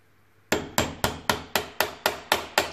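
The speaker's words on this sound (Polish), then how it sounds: "Za pomocą punktaka i młotka ustalamy centralnie miejsce naszego wiercenia." A hammer strikes a metal center punch set on a door lock cylinder, nine sharp, evenly spaced metallic taps in quick succession after a brief quiet start, close and alone.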